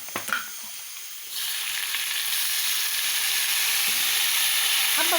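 Garlic frying in a hot pan bursts into a loud, steady sizzle as vinegar is poured in, the hiss swelling after a brief quieter start and holding strong to the end.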